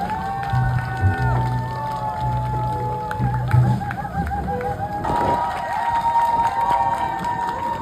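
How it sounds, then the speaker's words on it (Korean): Festival crowd applauding and cheering performers outdoors, dense clapping and shouts mixed with music and voices, loud and continuous, swelling near the end. "참가자들 박수로 모셔보겠습니다. 박수 부탁드립니다."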